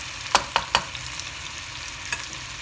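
Tandoori chicken shashlik pieces in a non-stick pan over low heat, with three sharp scraping stir or turning sounds close together, then one more a moment later, over a faint steady sizzle.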